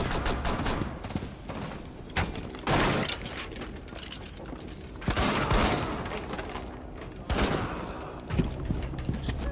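Rapid bursts of gunfire in the video game Rainbow Six Siege, loud and repeated in clusters, with explosive cracks and busy combat noise throughout.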